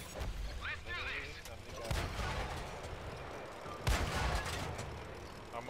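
Tank cannon fire in the World of Tanks video game: two heavy, booming shots a couple of seconds apart over a constant rumbling engine and battlefield background.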